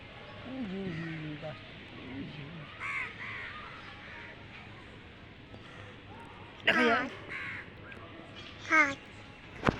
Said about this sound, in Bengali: ওই যে কতগুলো কাক ওই গাছটা